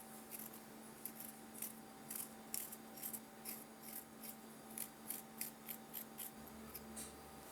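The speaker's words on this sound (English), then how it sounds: "And then we will peel the ginger. I'm using the spoon." Fresh ginger scraped with a spoon to peel it, a quick series of short rasping scrapes in an even rhythm, close and fairly quiet with no talking.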